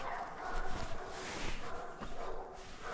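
A livestock guardian dog out on a farm gives a few low, muffled barks and woofs at a distance, faint against the outdoor ambience.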